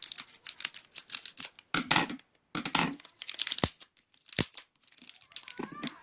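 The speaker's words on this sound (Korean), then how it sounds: "일단 요거 파란 거 먼저 뜯어볼게요" Packing tape being ripped and peeled off a blue parcel, heard as loud rasping tears and crinkling plastic bursts in irregular pulses, close to the microphone.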